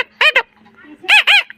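A man vocally mimics a parrot's call, producing two quick pairs of sharp, squawking notes with a brief quiet gap between them, close and clear.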